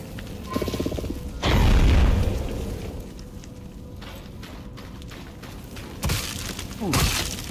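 A blast in the video game Eternal Strands: a heavy booming burst with shattering debris, followed by lingering rumble and a couple of later sharp crashes, loud and close.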